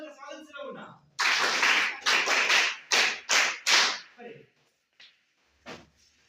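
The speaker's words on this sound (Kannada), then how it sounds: "ಈಗ ಚಪ್ಪಾಳೆ ಮೂಲಕ ಈ ವೇದಿಕೆಗೆ ಸ್ವಾಗತವನ್ನ ಮಾಡೋಣ" Short bursts of clapping from an audience welcoming three students onto a school stage, several separate loud rounds of claps in quick succession after a brief spoken introduction, then fading to a few scattered claps.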